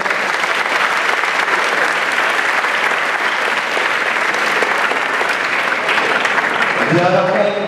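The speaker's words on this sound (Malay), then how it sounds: "berikan tepukan yang murah" A dense, steady wash of applause from a large crowd at a public forum fills the whole stretch, with a voice rising over it near the end.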